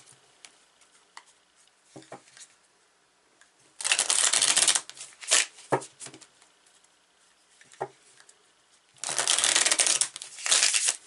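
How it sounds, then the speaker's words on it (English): Tarot cards are shuffled in two long, rustling bursts, with softer taps and slides of cards being handled in between, close and fairly quiet. "I'm going to pull some more cards."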